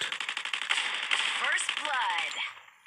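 Rapid gunfire in a Free Fire Clash Squad custom tournament match, a dense run of loud repeated shots with rattling bursts, fading out at the end, with a voice speaking over part of it.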